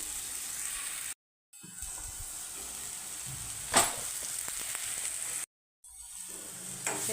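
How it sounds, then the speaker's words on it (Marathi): Masala sizzling and frying in a pan for a Marathi-style fish-and-drumstick curry, with a steady hiss broken by stirring scrapes and a couple of brief gaps, heard up close. "आता हे चांगलं परतून घ्यायचं"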